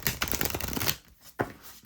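Tarot and oracle cards, including a seashell-themed oracle deck, shuffled by hand in a quick run of dense riffling that stops, then a short second burst close by with no talking.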